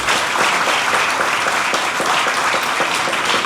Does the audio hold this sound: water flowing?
no